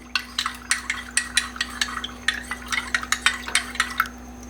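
Thin custard whisked briskly in a bowl with a spoon or whisk, a steady run of rapid scraping and clinking strokes, close and loud, with a faint hum underneath.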